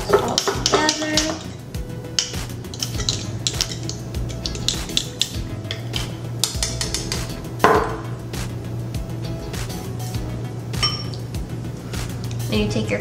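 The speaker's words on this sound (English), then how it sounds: "I'm gonna mix everything just so that it's all together" Ingredients for a homemade Starbucks-style drink being stirred together in a cup, giving steady clinks and taps of a utensil against the cup over a low background hum, with no ice added yet.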